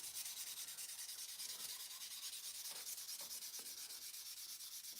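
A tobacco pipe is sanded by hand with a quiet, steady rhythm of back-and-forth rubbing strokes, soft and close, with no voices.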